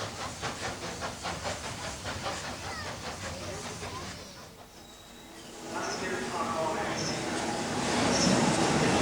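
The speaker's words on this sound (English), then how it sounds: "Bringing up the rear is the American-built locomotive number 30072, affectionately known as Little Jim." Steam locomotive number 30072, American-built and nicknamed Little Jim, chuffing in a steady rhythmic beat with hissing steam, easing off midway then building again, with voices talking over it.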